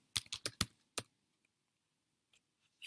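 Keys clatter on a computer keyboard in a quick burst of about six close, crisp strokes. A pause follows, then a few faint, scattered taps trail off.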